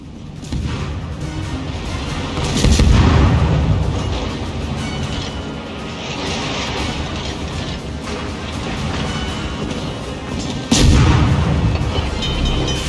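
Naval ship artillery in the World of Warships video game: heavy booming cannon blasts, one big salvo early and another near the end, with rumbling battle noise and crashes filling the gaps between.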